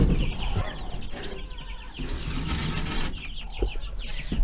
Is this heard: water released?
no